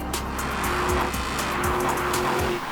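An Aston Martin V8 Vantage sports coupe drives with a steady, loud engine note heard from inside, a sustained throaty drone with faint repeating ticks and low rumbling shifts throughout.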